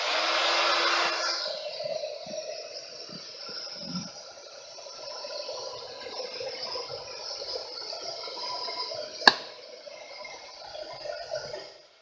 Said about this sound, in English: a heat tool